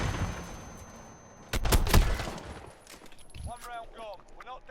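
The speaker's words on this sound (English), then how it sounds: "He shoots his pistol fast." Rapid pistol shots fired in a burst in Call of Duty: Modern Warfare, a few sharp cracks close together, followed by quieter game sounds and brief voices.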